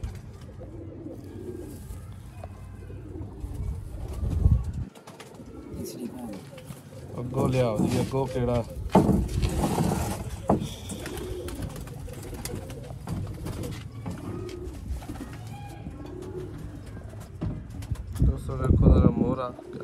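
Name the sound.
pigeons cooing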